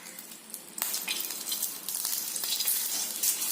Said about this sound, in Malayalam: ദോശക്കല്ലിൽ കുറച്ച് എണ്ണ കൊടുത്തിട്ട് മാവ് ഒഴിച്ച് ദോശയാക്കുന്നു